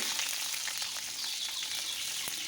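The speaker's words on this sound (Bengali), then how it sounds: "দিয়ে দিলাম ফোড়নে পেঁয়াজ আর লঙ্কা" Close, steady sizzling of onion and chilli frying in hot oil, a bright crackling hiss with small pops throughout.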